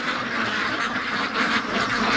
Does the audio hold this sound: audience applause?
no